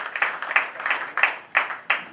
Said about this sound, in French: Ça mérite des acclamations.